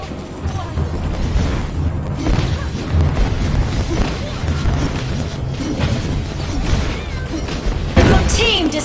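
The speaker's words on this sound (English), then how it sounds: "Destroyed a turret!" Turret being destroyed during a Mobile Legends match featuring Gatotkaca, heavy crashing booms and thudding impacts layered over continuous battle effects, with a game announcer voice heard among the noise.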